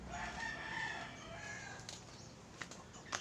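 Chickens cluck and a rooster crows faintly in a Philippine chicken yard, a soft steady farmyard murmur with a few short sharp peeps near the end and no talking.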